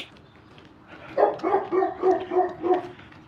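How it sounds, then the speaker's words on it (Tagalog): A big dog out in the snowy cold barks six times in a steady rhythm, each bark clear and loud at a moderate distance, with no talk over it. "may aso doon, ang laki doon"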